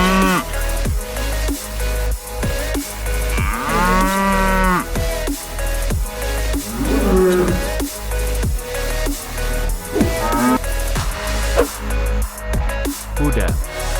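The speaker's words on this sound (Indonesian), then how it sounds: "Cow." Cattle mooing, a cow's drawn-out low calls rising and falling over a steady, rhythmic music bed, loud and close with no speech.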